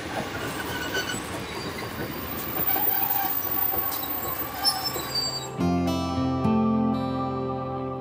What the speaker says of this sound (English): Is that the train now?